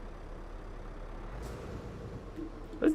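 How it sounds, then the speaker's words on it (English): A heavy truck engine in Euro Truck Simulator 2 gives a low, steady rumble with a faint hiss, then a short burst of louder mechanical noise at the very end. "Listen to that. Engine rumble."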